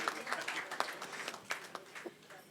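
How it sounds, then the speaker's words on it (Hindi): Faint, scattered clapping from a crowd at a Jain monk's religious question-and-answer session, irregular and thin, with some murmuring underneath. "एक बार जोरदार तालियां बजा दीजिए इन सब"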